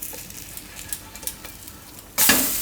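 Mung dal cheela cooking in a little oil on a pan over medium heat, with a quiet sizzle and light scraping before a sudden loud burst of sizzling near the end as more oil hits the pan.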